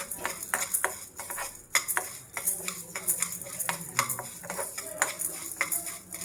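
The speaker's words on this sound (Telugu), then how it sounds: "ఆ వేడికి ఇంక మనకి నువ్వులు చిటపట అనేస్తాయి" Sesame seeds with a little cumin crackling in a hot pan, a busy run of sharp pops and ticks with soft stirring and scraping, close and steady throughout.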